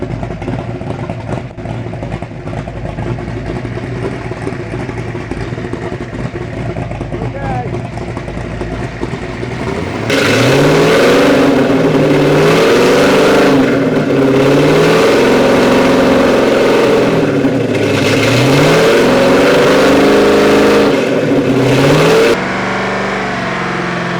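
A race boat engine rumbles at idle, then surges loud with repeated revs up toward 3,000 RPM, pitch climbing and dropping in cycles before cutting back, with talk heard over the noise.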